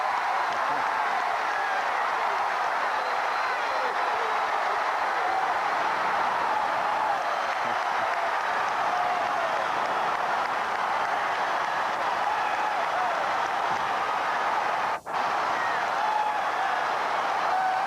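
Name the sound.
basketball arena crowd cheering after game-winning shot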